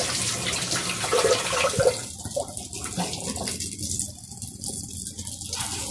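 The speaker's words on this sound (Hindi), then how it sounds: "अब हम टिक्की को तेल में डाल देते हैं।" Aloo tikki potato patties slipped into hot oil give a steady, close frying sizzle that thins slightly after the first seconds, with no talking.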